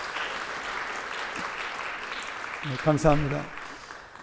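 Church congregation applauding the worship team of young adult leaders, a broad wash of clapping throughout, with a voice speaking briefly near the end.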